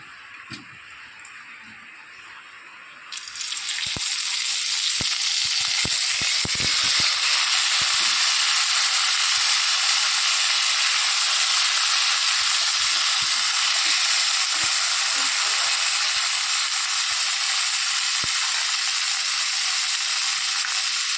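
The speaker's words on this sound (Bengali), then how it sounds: "তো এখন সিদ্ধ করা ফুলকপি ভেজে নেব" Boiled cauliflower frying in hot oil, a quiet stretch first, then a loud, sustained sizzle that swells in and holds steady, with scattered crackles and stirring taps, no voices.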